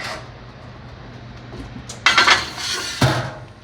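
A hot roasting pan of tomatoes is slid into an oven with a couple of loud metallic clanks and scrapes over a low background hum, then a second clunk as it settles.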